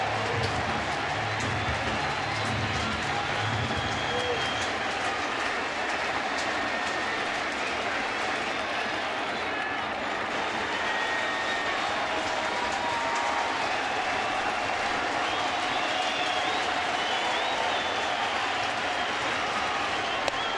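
A baseball crowd of more than 40,000 applauds and roars continuously in a dense, even wall of noise during a ninth-inning strikeout bid at a Reds–Mets game, with no voices standing out.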